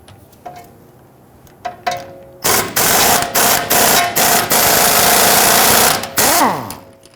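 A socket wrench with an 18 mm deep socket works the lower link arm bolt on the rear of a 2010-2019 Ford Taurus, giving a few faint clicks and then a loud, rapid, rattling run of several seconds before cutting off.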